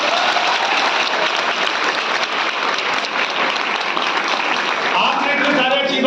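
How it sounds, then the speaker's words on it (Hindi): A training-event audience claps in welcome, a dense, loud and steady wash of applause lasting throughout, with voices mixed in beneath it. "हम एक बार इनका ताली बजा के स्वागत कर देते हैं।"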